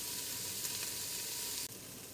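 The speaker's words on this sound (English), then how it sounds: "So we're just going to let these onions saute." Onions saute for chili in a hot pan, producing a steady, close, hissing sizzle that stays even throughout with only a brief dip near the end and no voices.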